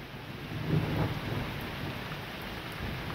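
A moderate-to-strong daytime thunderstorm: steady rain hisses throughout while a low roll of thunder swells early on and fades back beneath the downpour, with no voices.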